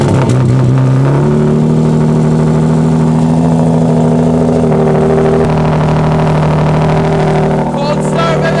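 A big-turbo Nissan 370Z engine cold-starts with a loud crank and catch, then settles into a steady, rough high idle with a few sharp revs near the end, close and continuous throughout.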